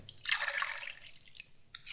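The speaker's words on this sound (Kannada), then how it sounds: "ನಾಲ್ಕು ಲೋಟ ನೀರು ಹಾಕೊಂಡಾಯ್ತು" Water pours into a pressure cooker for a Sankranti festival meal: a short splashing gush near the mic that tapers off within about a second, leaving quiet kitchen background.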